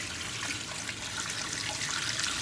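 Tap water runs steadily into a sink while seafood is rinsed, an even, full rushing splash with no pauses.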